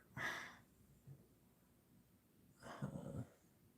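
Small puppies make two brief bursts of yips and snuffling, close by and fairly quiet, separated by a short lull with a faint sound between them.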